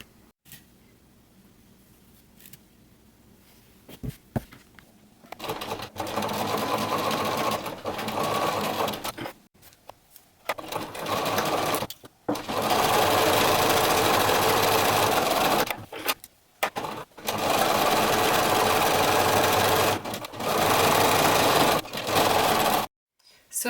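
Sewing machine stitching a knit fabric headband, a close, loud mechanical whirring in long runs of several seconds separated by short stops, with quiet handling noises between runs.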